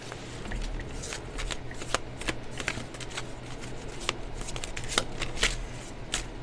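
A tarot deck is shuffled by hand in a quiet room, a steady run of papery riffling and soft card slaps with sharper snaps scattered throughout, close and fairly loud, with no voice.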